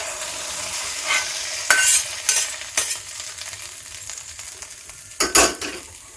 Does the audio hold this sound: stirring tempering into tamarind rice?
yes